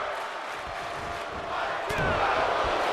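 A video-game wrestling crowd in a WWE 2K24 arena in Glendale roars steadily, swelling louder partway through with scattered shouts in the mix.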